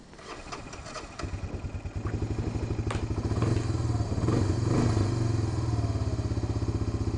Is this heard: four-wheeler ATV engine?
yes